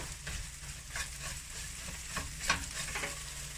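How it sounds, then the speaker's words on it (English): Scrambled eggs being folded and broken up in a pan: a soft, steady sizzle with gentle spatula scrapes and stirring, faint and close, with no talking. "we're going to fold, fold, fold, break it up just a little bit to cook the inside"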